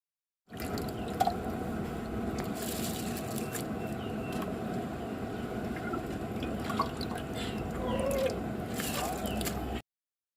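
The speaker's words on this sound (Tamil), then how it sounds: "தண்ணி நல்லா கொதிக்குது. நம்ம இப்போ அரிசி போட்டுக்கலாம்." Three kilograms of soaked ponni rice poured into a pot of boiling water for chicken biryani, giving a steady bubbling, dripping and splashing wash of liquid close by, with no talking.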